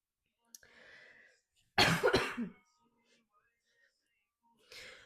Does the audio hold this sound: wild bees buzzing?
no